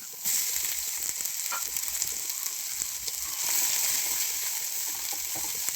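Garlic and ginger sizzle steadily in hot oil in a pan for beef curry, a continuous close crackling fry with faint stirring and no talk.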